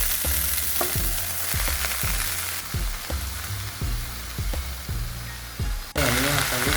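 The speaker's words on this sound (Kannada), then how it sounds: "ಈಗ ಕೊತ್ತಂಬರಿ ಮತ್ತು ಪುದೀನ ಎರಡು ಸೇರಿಸಿ ಹುರಿತೀವಿ" Coriander and mint leaves frying in oil give a loud, dense, close sizzle, broken by regular thumping stir strokes about twice a second before a brief jolt near the end.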